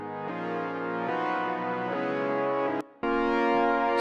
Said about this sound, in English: I ended this with a simple ascending pattern which sounds like this